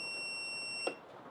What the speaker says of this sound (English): You will hear a beep and you can get to another menu.